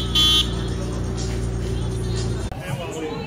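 Car horns blare near Disney Springs, a long sustained tonal honk over crowd babble and traffic, cutting off abruptly partway through before the busy outdoor hubbub continues.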